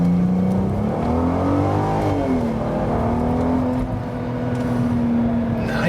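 A VW Golf R32 Mk4 pulls away hard from a standstill at a traffic light, its engine note climbing steadily through the gears for several seconds, loud and close from inside the cabin.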